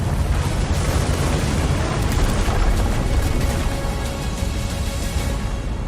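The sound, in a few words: object destruction sounds from video game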